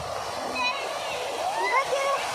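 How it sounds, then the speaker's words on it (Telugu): Water pours down from above in a park on a sunny day, a continuous splashing rush with children and adults chattering and calling nearby. "మస్తు వస్తున్నాయి వాటర్."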